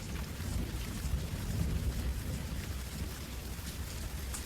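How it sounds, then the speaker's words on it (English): Rain falls steadily as a sound effect in an audio story, a dense continuous hiss of drops with low rumbling beneath, even and fairly loud throughout, with no voices. "It begins to rain."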